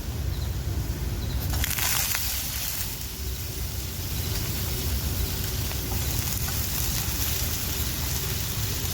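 Chopped vegetables from vines grown in the field hit a hot pan, giving a loud, constant broadband hiss and crackle, close and unbroken throughout with no speech.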